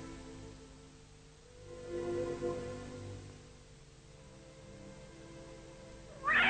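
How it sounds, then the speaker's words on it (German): A cat meows in a low, drawn-out wavering cry, faint against a quiet background, with a sudden louder sound at the very end. "Warum hat sie so miaut?"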